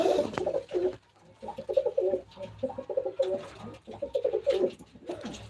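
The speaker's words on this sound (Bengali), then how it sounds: "এই হচ্ছে নর পায়রাগুলো আজকে ছেড়ে রেখেছি" Male pigeons coo inside a loft in a steady run of repeated throaty, rolling calls that overlap one another, close by and fairly loud, with no talking.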